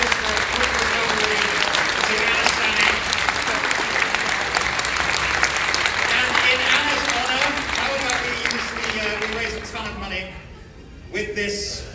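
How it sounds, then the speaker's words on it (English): An audience at a charity auction gives a sustained, loud round of clapping after a winning bid, steady for about ten seconds before tapering off, with a voice speaking over the crowd. "Huge round of applause"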